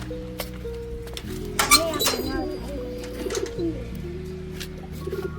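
Soft coos from domestic pigeons being let out of their coop repeat in the background, mixed with a few light clinks and some faint voices.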